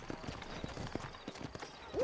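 Horses trotting in the Red Dead Redemption video game, a quick, steady run of hoof clip-clops close by, ending in a brief whinny-like sound.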